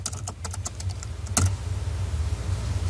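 Typing on a computer keyboard, a quick run of close, crisp key clicks followed by one louder keystroke and then quiet background hum.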